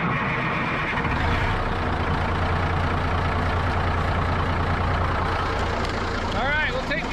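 An old 5-ton truck drives along a road, its engine a steady, heavy low drone with constant road noise, close and continuous, with a voice faintly heard near the end.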